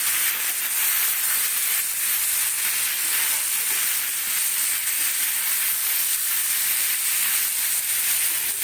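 Vegetables fry in a pan for a bean-leaf paturi dish, giving a loud, steady hiss of sizzling oil that holds unbroken throughout.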